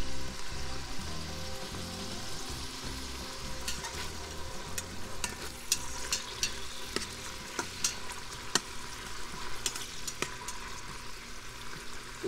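Onions fry in a pan with salt, giving a steady soft sizzle with occasional sharper crackles and stirring scrapes, close and with no talking.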